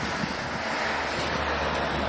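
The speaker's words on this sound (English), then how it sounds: "It's really windy here at the moment" Strong wind buffeting the microphone, a constant loud rushing roar with no other sounds standing out.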